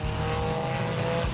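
Race cars on track, a Porsche 911R and a Lotus Elan, engine roaring steadily at high revs with a brief drop near the end, heard alone.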